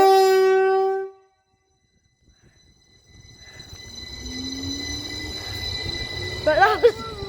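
A train pulls away from the station at Guiseley, opening with a loud horn blast, then a pause before the rising rumble of the departing train, with squealing wheels and a voice near the end.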